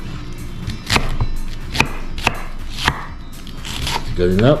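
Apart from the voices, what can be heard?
chopping ingredients thinly for sautéing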